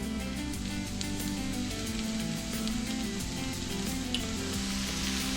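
Potatoes, burger and onions fry together for dinner, making a dense, steady sizzle alongside a constant low hum, with no pauses and no talking.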